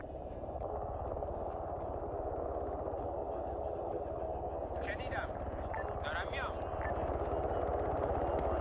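Helicopter in a military shooter video game: a steady, loud rotor drone fills the whole stretch, with faint radio-style voices and brief game effects layered over it.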